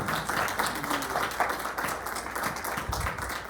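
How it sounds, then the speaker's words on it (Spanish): An audience at a university psychology faculty presentation claps steadily for several seconds, a dense spread of hands applauding indoors with no one speaking over it. "Un aplauso por favor"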